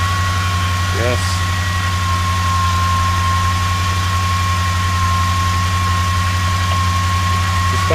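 Loud, steady engine idle with a constant low hum and a sustained high whine, unchanging for several seconds, with a brief voice early on.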